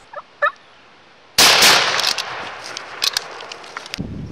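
Wild turkey longbeards during a Kentucky turkey hunt: after two faint distant calls, a loud, close, rattling gobble bursts out, then trails off with a few fainter follow-up notes.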